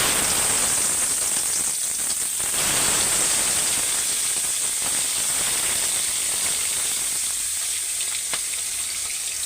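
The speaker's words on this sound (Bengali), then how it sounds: "এখানে তেলটাও গরম হয়ে গেছে, তো আমি মাছগুলি এখন ভাইজা নিব" Spiced, marinated fish frying in hot oil in a home kitchen, a dense continuous sizzle with bright crackle that eases and thins toward the end.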